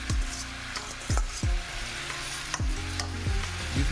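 Radish greens sizzle in a pan under a steady hiss, while a spoon stirs and scrapes in several distinct strokes, close and clear with no voices.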